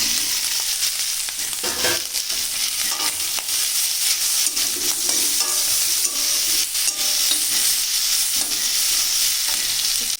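Taro stolons and taro greens sizzle in a hot pan while a utensil scrapes and stirs them in irregular strokes, with no talking.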